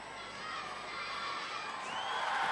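The studio crowd at a 1995 Gladiators TV show heat cheers and shouts steadily, a dense, sustained roar of many voices in a large arena.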